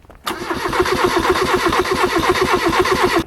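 A starter motor cranks a Mazda 323 engine in rapid, even pulses, loud and close, running steadily for a few seconds without catching.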